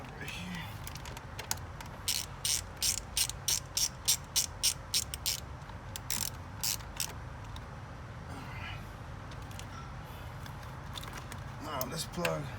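Rapid ratchet wrench clicking while fuel injector bolts are tightened on a Chevy 5.3L V8: close bursts of sharp clicks in quick rhythmic runs, pausing and resuming, over a steady low background hum.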